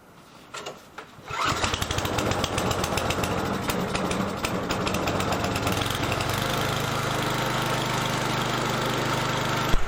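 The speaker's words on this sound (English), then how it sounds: "I'm going to let that snowblower warm up for a couple minutes" A snowblower engine starts with a few sputters, then settles into a loud, continuous rough idle with a rapid knocking pulse, running steadily as it warms up, close by.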